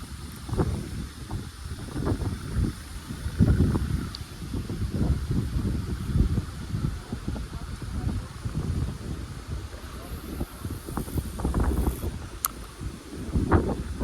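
Strong gusty wind rumbles and buffets the microphone for the whole stretch outdoors while flat feeder fishing, with a few faint clicks and rustles nearby.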